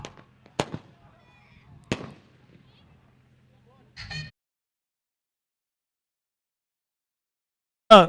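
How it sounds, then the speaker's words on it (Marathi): A few sharp bangs of firecrackers at a sports tournament final, spaced out over several seconds, separated by quiet stretches, ending with a louder crackling burst. "फटाक्यांचा आवाज. नाद घुमला."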